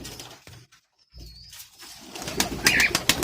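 Pigeons kept in a fancier's loft coo softly and briefly at close range, followed by some rustling and sharper bird sounds.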